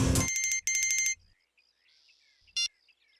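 A telephone rings with a bright electronic trill in two loud bursts, then falls quiet, and one brief blip of the ring returns near the end.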